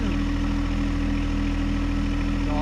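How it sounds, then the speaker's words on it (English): A tractor engine idles steadily and close by while its bucket digs out dirt for a homestead storm shelter, a continuous low throbbing hum with no talk over it. "Then I have to pull my tractor forward so I can continue on down at the bottom"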